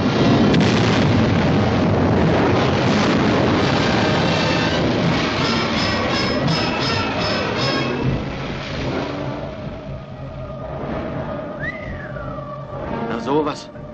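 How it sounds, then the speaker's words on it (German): A machine explodes in a film scene, a loud, dense roaring blast rumbling on for several seconds before fading into lingering noise and whistling tones, with voices around it. "Die Maschine ist explodiert."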